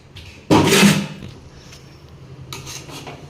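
A ladle or spoon works through cooked rice for a chicken leg piece dum biryani in a pot, giving a loud metallic scrape and clatter, then quieter scraping clinks a couple of seconds later.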